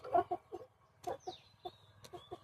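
Chickens clucking softly while eating, a handful of short close clucks in an irregular rhythm with a faint higher chirp in the background.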